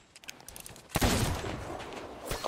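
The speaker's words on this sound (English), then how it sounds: "Oh, I heard a gunshot." A sharp gunshot cracks out in Sea of Thieves, followed by a stretch of noisy, reverberant game action, with another burst near the end.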